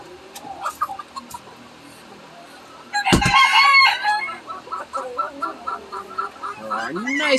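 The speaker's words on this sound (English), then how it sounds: "so now we're going to go feeding the chickens." Backyard chickens cluck repeatedly at feeding time, with a loud rooster crow bursting in near the middle, all close to the listener, then quieter clucks and calls follow.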